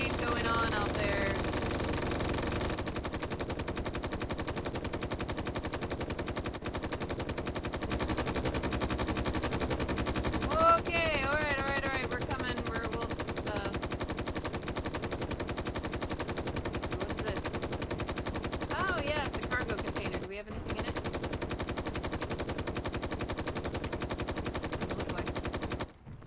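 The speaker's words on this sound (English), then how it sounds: "Lots of shooting going on out there." Sustained machine-gun fire in the space video game Space Engineers, rapid continuous bursts at moderate level for most of the stretch, with short gaps and a few louder electronic sweeps.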